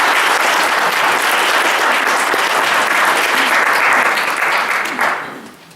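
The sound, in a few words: audience applause at a candidate forum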